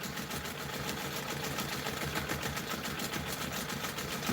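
Sewing machine running steadily while stitching a pebble background fill, going over earlier stitches to build up thickness; a continuous, fast, even mechanical whir close to the microphone with no talk.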